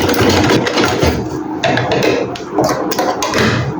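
A sewing machine runs a half-inch seam through fabric with a loud, close, continuous motor hum and rapid needle tapping throughout, with no talk.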